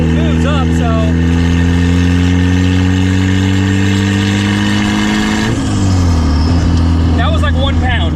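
Turbocharged Miata-engined go-kart revving close by, a loud steady engine drone that swells in pitch as the throttle opens, with a faint turbo whistle and a voice talking briefly at the start and end.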